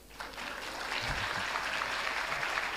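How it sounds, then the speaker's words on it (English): A forum audience bursts into applause, building quickly into a steady, full round of clapping. "Let's clap for the Kenyans."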